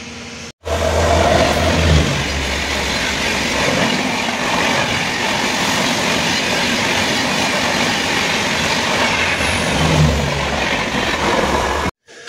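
Rajdhani Express 12424, running from New Delhi to Dibrugarh Town, passes near Dhupguri station with a loud, steady rumble and wheel clatter. The sound lasts about eleven seconds, starting and stopping abruptly, and no one talks.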